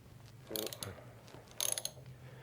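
A ratchet wrench cracks loose Loctite-treated stock handlebar bolts on a motorcycle, giving two short bursts of rapid metallic clicking about a second apart, close and fairly quiet.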